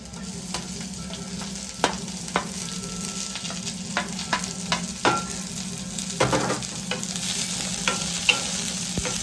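Finely chopped onion fries in a pan until browning, with a steady hiss of sizzling oil and repeated sharp taps and scrapes of a stirring utensil, close and clear.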